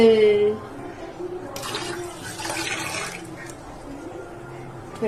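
Hands being washed under running tap water in a home kitchen before serving lunch, a steady splashing rush beginning partway through and continuing close by at moderate level, with no talk over it.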